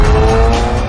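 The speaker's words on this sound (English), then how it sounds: "you have the incredible soundtrack of that engine, those two turbos sucking in great lungfuls of air and then dumping it through the wastegate" A Noble car's twin-turbo engine heard loud and close in one continuous full-throttle roar, its steady tone carrying a faint squeal across the whole second.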